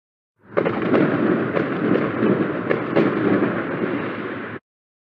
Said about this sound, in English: So it's the time for the fireworks.